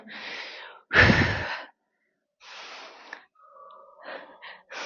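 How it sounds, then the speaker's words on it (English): Heavy breathing during a Pilates ab-toning core exercise: a strong near exhale, then several softer breaths and sighs with short pauses between, heard alone without talk. "there's a lot of heavy breathing"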